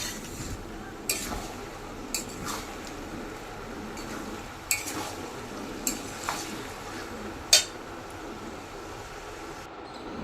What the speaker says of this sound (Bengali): মিশিয়ে নিচ্ছি এইভাবে নেড়ে চেড়ে মিশিয়ে